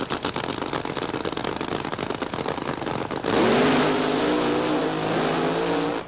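A Mustang-bodied drag racer at the 1976 NHRA Gatornationals launches with a loud, harsh engine roar, first a crackling rapid pulse, then a sustained, near, full-throttle howl that holds steady to the end.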